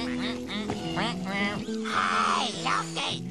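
A cartoon duck quacks repeatedly in a nasal, honking chatter, loud and close, mixed with a character's voice and background music.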